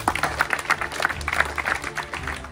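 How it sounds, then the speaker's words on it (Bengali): A crowd of students claps for a defence academy student, a dense, fairly close round of applause running steadily throughout. "চলো, ওর জন্য আরেকবার হাততালি দাও।"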